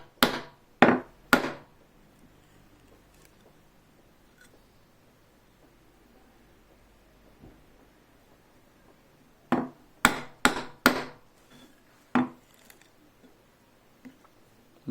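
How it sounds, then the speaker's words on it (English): A mallet drives a 1/4-inch chisel into wood to chop a small mortise for a bow saw, sharp wooden knocks in two bursts of three to five blows with a quiet gap between them. "It's rather fun to chop a small mortise like this with like a 1/4-inch chisel"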